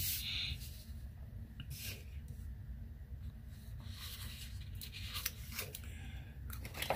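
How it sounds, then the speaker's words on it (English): Scissors snip and slice through paper while decorating a B6 traveler's notebook planner, giving close, quiet crisp cuts and rustling in short bursts over a steady low background hum. "Here's my scissors."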